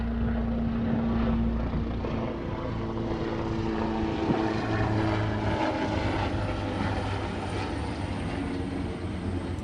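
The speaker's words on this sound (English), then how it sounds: "listening to the gentle hum of helicopters overhead" Helicopters hum overhead in a steady, unbroken low drone that fills the whole stretch at moderate loudness, with no voices.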